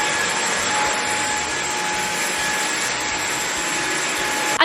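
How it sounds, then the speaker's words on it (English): A vacuum cleaner runs continuously in an apartment, a loud close-up motor whine with rushing air and a faint rattle of small glass shards being picked up. "I'm gonna go get the vacuum because I've got a lot of little glass shards to clean up."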